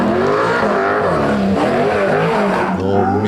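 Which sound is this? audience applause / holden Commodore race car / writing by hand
holden Commodore race car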